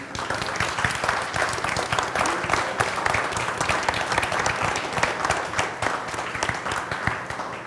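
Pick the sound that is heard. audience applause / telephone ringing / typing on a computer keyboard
audience applause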